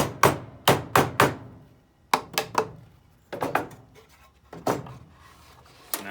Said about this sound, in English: You can hammer it back in.